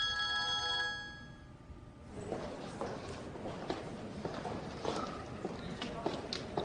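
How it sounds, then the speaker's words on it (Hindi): A telephone rings with a steady electronic tone for about two seconds and then stops, leaving a quieter room with soft movement and faint background noise. "कब से तुम्हारा फोन बज रहा है?"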